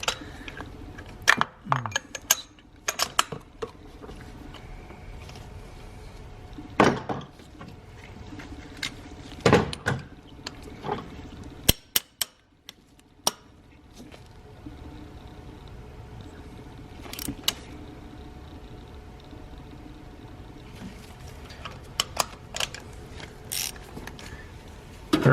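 Ratchet wrench clicks and metallic tightening while torquing spark plugs on a 2013–2019 Nissan Sentra 1.8L engine, sharp intermittent clicks in short bursts with quiet gaps, close up, no talk.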